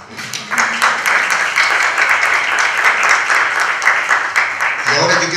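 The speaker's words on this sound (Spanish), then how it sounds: "un aplauso de todo corazón para ustedes" A seated audience at a comics-under-dictatorship panel applauds the panelists: loud, close, dense clapping that starts abruptly and holds steady for about five seconds, then begins to thin as a voice comes in at the end.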